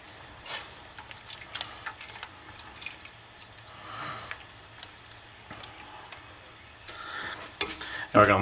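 A spoon stirs chopped basil and parsley with sugar into a pot of homemade spaghetti sauce, giving soft, intermittent scraping and wet sloshing at close range with faint background hiss.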